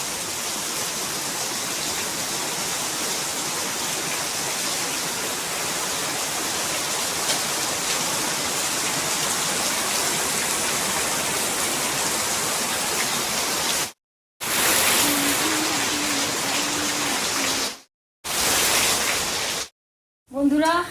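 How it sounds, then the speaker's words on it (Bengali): A heavy monsoon downpour roars as dense, loud, continuous rain noise. The rain cuts off briefly near the end, and a faint tone rises behind it. "মুষলধারে বৃষ্টি নেমে গেছে, মুষলধারে।"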